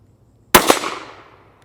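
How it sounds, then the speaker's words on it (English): A single sharp shot from a Savage Rascal youth .22 rifle fired at a popper target 30 yards away, a loud close crack with a second quick impact-like peak and a short fading tail, no voices. "we're going to try to put 5 rounds on the head of that target"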